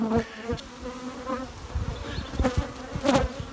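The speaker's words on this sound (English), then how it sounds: "See plenty of bees upstairs, which is good." Steady buzzing of many honeybees close by at a double-colony hive, a continuous insect drone with occasional louder passes near the microphone.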